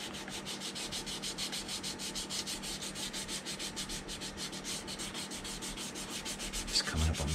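Steady back-and-forth rasp of sanding putty on a 1:350 scale Polar Lights TOS Enterprise plastic model kit, close and even in rhythmic strokes throughout, with a slight bump at the end.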